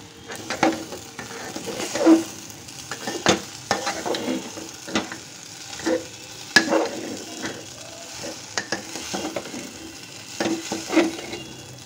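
Vegetables frying in a pan with oats, dalia and lentils being added, a steady close sizzle broken by repeated scraping stirs of a utensil against the pan, with no talking.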